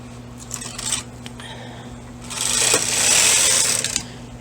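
A knitting machine carriage is pushed across the bed to knit one row of a bulky Fair Isle yoke pullover. It makes a close, rising mechanical swish and clatter that swells toward the end, with a faint steady hum underneath.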